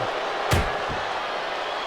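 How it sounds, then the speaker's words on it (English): A wrestler slammed down hard, ribs first, in the WWE 2K24 video game: a single dull thud against a dense, steady arena crowd roar, with a softer impact just after. "Slamming down hard, ribs first."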